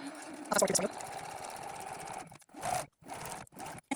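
Sewing machine stitches a clear-window water bottle bag in short bursts, whirring close by with brief pauses between runs.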